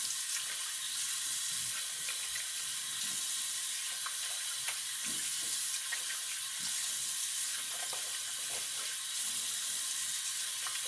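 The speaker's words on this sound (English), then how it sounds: "Let me rinse off." Water runs steadily from a tap as someone rinses off lather at a sink, a continuous broadband splash and hiss lasting throughout with no speech.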